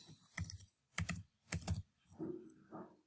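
Computer keyboard keys typed in three quick bursts of clicks, close and crisp, followed by a softer stretch of lighter, muffled tapping.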